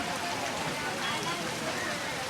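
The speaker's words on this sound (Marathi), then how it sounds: "आज सात महिने झाले पावसाला तरी काय थांबत नाही पाऊस" Heavy monsoon rain pours down on Makhjan market in the Konkan, a dense, steady hiss of drops drumming on surfaces that continues without pause from start to finish.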